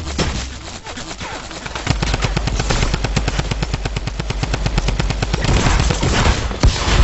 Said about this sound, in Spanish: el proceso ese de desaparecer y volver a aparecer y lograr el daño está haciendo que falle bastantes disparos